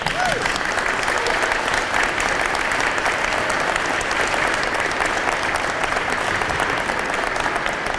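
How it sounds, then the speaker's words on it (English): Audience applause for children standing at a school fire commemoration, steady and dense for the full length, a large indoor crowd clapping continuously at an even level. "And we applaud you as well."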